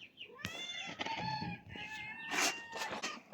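A domestic cat meows several times close up, a string of short, fairly quiet, tonal cries with little pause between them.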